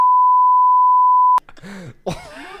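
A steady, continuous beep tone holds for over a second, then cuts off abruptly and speech follows.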